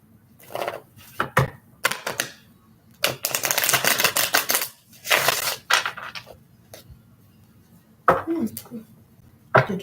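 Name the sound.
shuffling tarot cards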